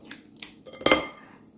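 Cookie dough balls set down by hand onto a baking tray, giving a few soft taps and one sharper clatter against the tray, close and fairly quiet with no talking.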